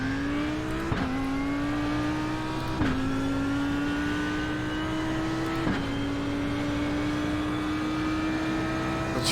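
A car engine held high against the rev limiter: a loud, continuous whine that climbs slowly and drops abruptly at regular intervals, several times in a row.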